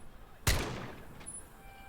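A single M1 Garand rifle shot fired in the VR war shooter Medal of Honor: Above and Beyond: one sharp, loud crack with a decaying echo tail, heard alone.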